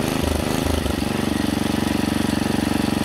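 A Clinton B1290 small engine runs steadily close by, its rapid, even firing pulses holding a constant idle-like rhythm throughout, with no talk over it.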